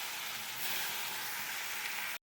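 Pointed gourd (potol) pieces frying in oil: a steady, bright hiss of sizzling that holds even for about two seconds and then cuts off abruptly, close and alone.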